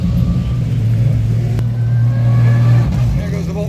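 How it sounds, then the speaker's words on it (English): The Volt Racing race car rolls past very close in the IMSA paddock at Road America, a loud, deep engine rumble that swells and holds throughout the few seconds. "There goes the Volt Racing car right by me, almost ran me over."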